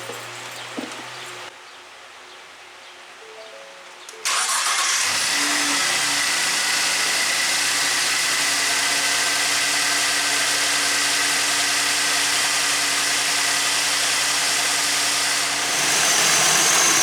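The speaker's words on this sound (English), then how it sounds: "And now I'm gonna start the vehicle to see if there's a leak." A 2020 Ford Transit van's engine cranks and catches after a few quiet seconds, then settles into a loud, steady idle with a continuous hum and hiss.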